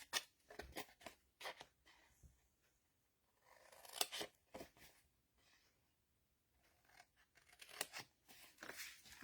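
Scissors snip through paper along its folds in short bursts of sharp crisp cuts, with quiet pauses in between, close and soft.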